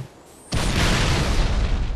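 A grenade explodes in Halo 3: after a brief quiet moment, a sudden loud boom bursts out and rolls on as a sustained roaring blast for the rest of the moment.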